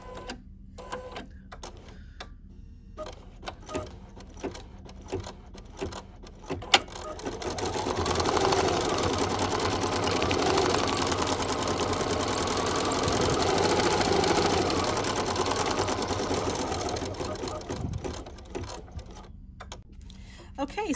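A sewing machine stitches vinyl with red thread, running steadily for several seconds in the middle after some short starts and stops, with quieter handling sounds before and after.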